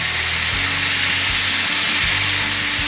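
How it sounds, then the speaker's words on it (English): White wine hitting a hot pan of asparagus, parsley and dill, a steady loud broadband sizzle with a low hum underneath, continuous for a few seconds with no voices. "So the deglaze with some white wine"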